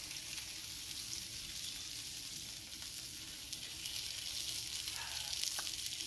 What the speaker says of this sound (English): I also got some onions we're going to be sauteing, because I love sauteed onions on my burgers.